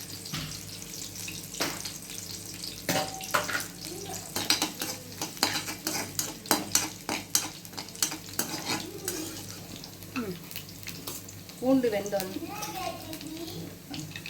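Garlic and rosemary sautéing in a pan for rosemary fried rice, with steady sizzling under repeated clinks and scrapes of a utensil stirring, and a voice talking throughout.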